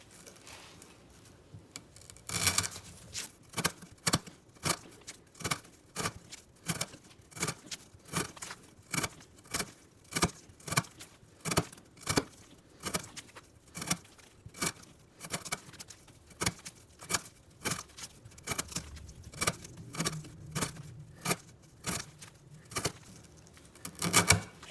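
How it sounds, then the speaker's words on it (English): A fixed-blade Monterey Bay Knives Fieldtrekker repeatedly slicing through 1/2 inch twisted rope, producing a long series of sharp, close crisp cutting snaps at a steady rhythm with no talking. "we're gonna cut up some of this 1/2 inch twisted sit style rope"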